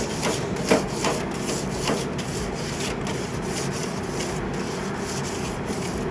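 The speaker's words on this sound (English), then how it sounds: "Just take regular foil, rub the grates." Crumpled aluminum foil rubbed up and down on Traeger grill grates, a steady close scraping and scrubbing with faint rhythmic strokes throughout.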